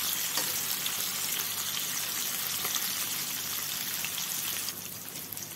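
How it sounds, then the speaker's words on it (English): Steady, dense sizzling and crackling of bitter gourd frying in hot oil, continuous throughout and easing slightly near the end. "to fry them till they are brown"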